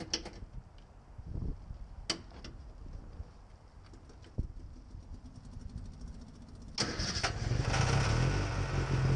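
A Lotus Eleven's key switches on the fuel pump with soft clicks and a faint whir, then the engine cranks and fires near 7 seconds into a loud, steady running note.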